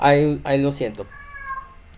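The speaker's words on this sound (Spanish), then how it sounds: "Ay, una disculpa por el gato." A domestic cat meows twice loudly and close by, followed by a fainter drawn-out cry, while a person speaks briefly over it indoors.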